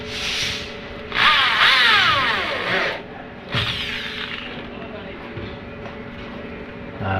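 A power drill drives self-drilling screws into PVC ceiling panels, whining up in two loud bursts and a shorter third, with voices in the background.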